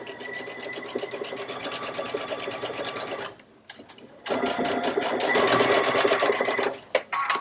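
A sewing machine stitches quilt piecing with a steady, close whirring hum that drops out briefly mid-way, then resumes loud and continuous before stopping with a short click.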